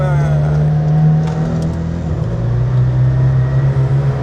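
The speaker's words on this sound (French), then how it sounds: "tu entends tout de suite que la voiture, là-bas sur la gauche" McLaren Senna supercar engine on a Monaco street, a loud steady droning growl with shifting pitch, close and dominant throughout.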